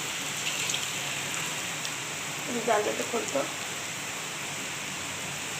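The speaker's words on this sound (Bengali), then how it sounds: "দেখো কত বৃষ্টি হচ্ছে" Heavy rain falling outside a window makes a steady, hissing wash throughout, while a voice speaks briefly over it partway through.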